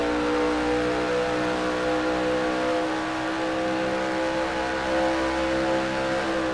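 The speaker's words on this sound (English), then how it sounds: "Yeah, the car noise is too loud that way." A NASCAR Racing 2003 video game race car engine at Texas Motor Speedway roars steadily, a loud, continuous drone with a constant whine and little change in pitch throughout.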